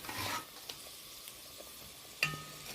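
A spoon stirs hilsa fish and fried eggplant curry in a simmering pan, giving a soft sizzle with a few faint scraping clinks and one sharper knock near the end, quiet and without talk.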